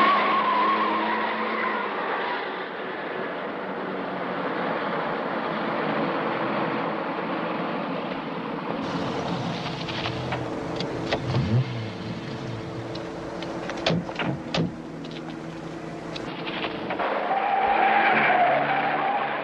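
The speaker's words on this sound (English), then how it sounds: "Follow Fred's car." A car skids in a 1977 film chase scene, with long tire squeals and engine roar up close, broken midway by sharp clatters and bumps before the screeching rises again at the end.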